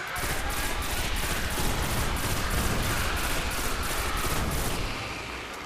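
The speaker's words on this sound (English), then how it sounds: "you can fire it on fully automatic" Oversoul Edict pulse rifle from Destiny firing on full auto, a steady stream of rapid, evenly spaced bursts that stays loud and dense throughout, easing off slightly near the end.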